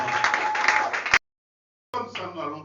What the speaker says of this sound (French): Acclamons pour elle.